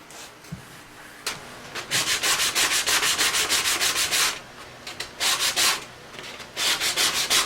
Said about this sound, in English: I'm just getting it all smooth and ready to be sanded down with, I'll probably go to 80 and then 120